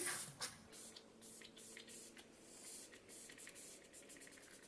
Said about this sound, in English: I'm going to use some Olay Ultra Hydration Essence as my setting spray